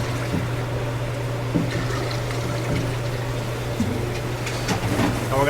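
Water is poured steadily into a pot of dry chickpeas and baking soda until they are covered by about four inches, for hummus. A continuous trickling splash sits over a low, constant hum.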